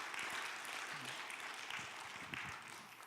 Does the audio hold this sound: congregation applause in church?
yes